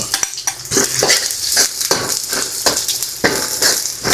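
Chopped onion frying and being stirred in a hot pan alongside fried milkfish, with steady sizzling and repeated scraping, clattering utensil strokes; close and loud, with no talking.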